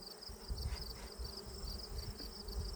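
Steady buzzing of many honey bees at an open-air hive, a dense insect hum with no voices, moderately loud and continuous throughout.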